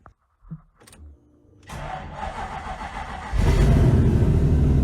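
Clicks and a starter crank give way to a Toyota 1UZ V8 engine in a Ford Focus catching and rumbling, then blasting louder through an open straight-pipe exhaust, harsh and close.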